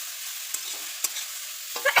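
Coconut fritter batter sizzles in hot oil with a soft steady hiss, broken by a few sharp spits and crackles that grow busier toward the end.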